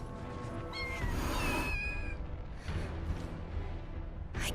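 Kittens in the game Final Fantasy VII Rebirth give several high, plaintive meows in close succession, some overlapping, over faint background music.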